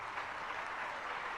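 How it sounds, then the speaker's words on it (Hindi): Faint, distant applause from a gathered audience at a religious discourse event, a steady even patter of clapping heard from afar. "तालियां इन सब के लिए"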